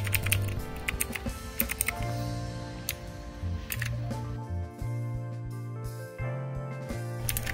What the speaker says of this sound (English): I enjoyed using this keyboard and it sounds incredibly amazing.